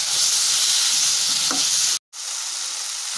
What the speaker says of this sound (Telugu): ఫ్రై చేసుకుందాం.